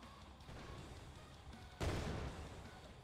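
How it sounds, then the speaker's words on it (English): Exploding barrels blowing up in the game Post War Dreams: low rumbling combat noise, then a sudden loud burst partway through, followed by fading debris and booms. "Is someone throwing exploding barrels at me?"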